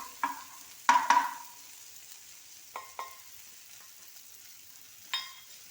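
Spice paste frying in a pan beside softened onion and tomato, stirred with a few sharp scraping strokes, a quick double scrape then sparse single ones, over a faint low sizzle, close and without talk.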